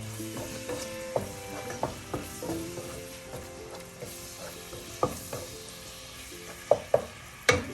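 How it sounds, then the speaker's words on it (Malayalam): Onions sauté in a pan with a soft sizzle while a spoon scrapes and knocks against the metal in irregular strokes, ending with a few sharper clanks. "ഉള്ളിയെല്ലാം നന്നായിട്ട് വഴണ്ടിട്ടുണ്ട്."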